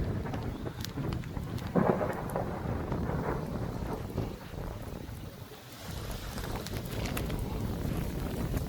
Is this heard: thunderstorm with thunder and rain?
yes